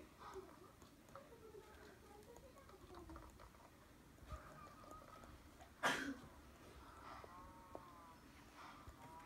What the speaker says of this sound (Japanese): 下の牛がうるさいな。